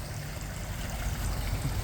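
A backyard koi pond's filter trickles water steadily, a soft continuous splash and gurgle close by with no voices.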